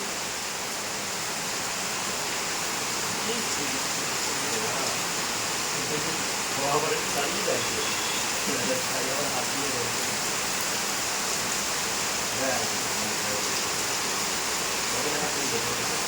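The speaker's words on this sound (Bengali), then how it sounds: "আমার গাড়িটা বৃষ্টিতে ভিজে যাচ্ছে, কি হবে? দেখো রাস্তায় জল জমে গেছে" Heavy rain pours down steadily, with water running along a flooded street; a dense, even roar of falling drops and flowing water continues throughout.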